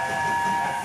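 A cartoon magical disco train rolls along, a steady, continuous rumble with a sustained whistle-like tone held over it, loud and close throughout.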